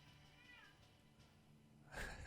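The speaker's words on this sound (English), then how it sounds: "you might hear a cat meowing in the background" A cat meows faintly in the background of a quiet room, a soft wavering cry early on, followed near the end by a louder, sharper burst of sound.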